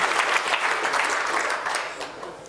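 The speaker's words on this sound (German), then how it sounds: "Tosender, donnernder Applaus," Audience applause at a hacker conference talk, a dense crowd clapping steadily for a couple of seconds, then fading slightly near the end.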